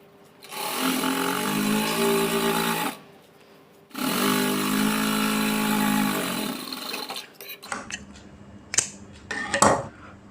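A sewing machine runs two steady stitching bursts of about two and a half and three and a half seconds, sewing piping cord between a small and a large piece of fabric. The bursts are separated by a pause, and a few clattering handling knocks follow.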